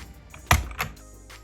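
A switch puller removes a switch from a Gamakay MK61 mechanical keyboard, producing one sharp plastic click followed by a fainter second click, close and isolated.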